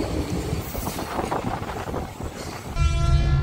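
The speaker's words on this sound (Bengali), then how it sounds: "ট্রেন আরামবাগ ঢুকে পড়ল" A local train pulling into Arambagh station in Hooghly rumbles and clatters on the rails, then a loud steady horn blast sounds near the end, close by and with no talking.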